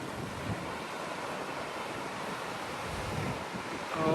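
Atlantic Ocean surf breaking below the cliffs at Sines, Portugal, a steady roaring wash of waves mixed with gusty wind buffeting the microphone, continuous and fairly loud with no voices.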